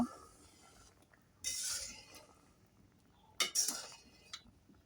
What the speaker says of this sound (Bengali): আরও একবার মিষ্টিগুলো নেড়ে ছেড়ে দেব